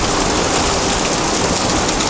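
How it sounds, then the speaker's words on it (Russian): Heavy rain mixed with hail pelts down on outdoor tiles, a loud, dense and steady hiss of impacts with no pauses and no voices. "Такого дождя с градом давно у нас не было."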